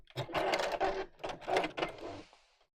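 Sewing machine stitching the base of a fabric bag in a circle, running in several fast close bursts with brief pauses, then winding down and stopping near the end.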